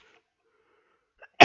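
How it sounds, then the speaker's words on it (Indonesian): A single sharp cough bursts out near the end, close and loud, after near silence with a faint breath. "Maaf, tadi batuk ya."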